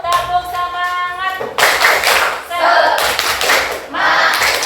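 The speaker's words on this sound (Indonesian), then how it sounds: "ayo tepuk semangat dulu, tepuk semangat." Classroom of seventh graders doing a rhythmic encouragement clap, loud patterned bursts of hand clapping in groups separated by short pauses, preceded by a brief sung or chanted voice.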